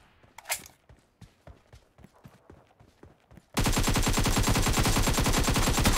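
Video game shooter gunfire: a few scattered single shots and steps at first, then a dense, loud, continuous burst of rapid automatic fire that runs to the end.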